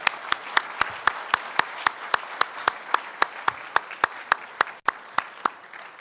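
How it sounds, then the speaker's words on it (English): Audience applause at an election day breakfast for two presidents, a steady crowd of clapping with several sharp, evenly spaced claps standing out above the wash of hands, moderately loud and continuous throughout. "Could I ask you all to give me a round of applause for our two great presidents?"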